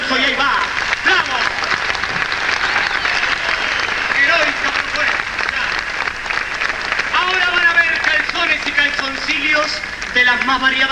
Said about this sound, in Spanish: estos héroes del desnudo merecen un fuerte aplauso y ahí va